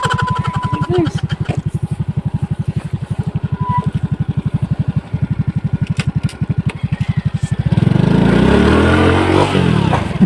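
Motorcycle engine up close, chugging in a fast, steady pulsing rhythm before revving harder into a louder roar near the end, with no talk over it.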